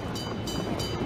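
A moving train in the video game PUBG, a brief steady rumbling roar of rolling wheels with no distinct clacks, close and alone without talk.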